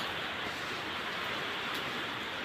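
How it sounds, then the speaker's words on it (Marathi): Heavy rain falls in a steady, even hiss that holds without a break throughout, with no voices heard. "पाऊस त्यांनी सांगितल्याप्रमाणे यायला लागला आहे पाऊस"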